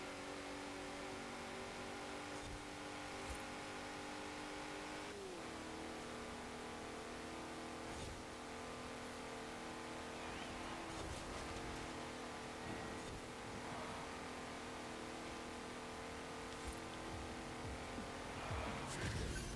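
Morgan sports car in Forza Horizon 4 revving hard and accelerating at high speed toward a finish line, a steady, loud, continuous engine drone with shifting pitch filling the whole stretch, no talk.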